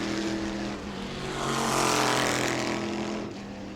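Race cars run laps during group qualifying on the New Smyrna track, a loud engine roar that swells as a car passes close by and then fades, with other engines droning beneath it.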